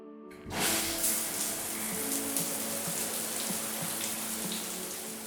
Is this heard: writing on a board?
no